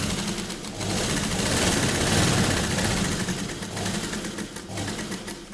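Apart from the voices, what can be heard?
sewing machine stitching a child's Patiala dress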